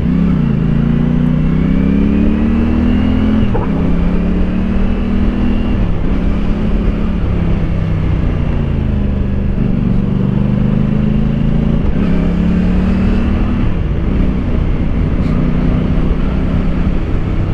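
A CF Moto 450SRS motorcycle accelerates hard through repeated gear changes, its engine note climbing, dropping at each shift and climbing again, loud and close with heavy wind rush and no talking.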